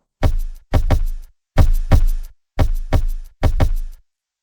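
Punchy electronic kick drum processed with side EQ for a more mono low end, struck in five quick pairs of boomy hits with short decays and brief silences, heard on its own without talk.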